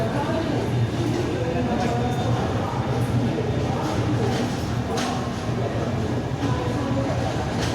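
Inside the Purvanchal Express passenger train while it runs, a steady loud rumble and rattle of the carriage continues throughout. Someone talks over the noise.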